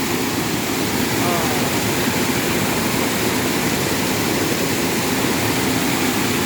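A waterfall roars steadily and loudly at close range, a continuous broadband wash of falling water that never lets up.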